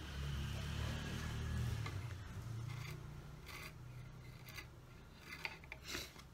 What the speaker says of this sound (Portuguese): Vou cortar a pontinha dele aqui.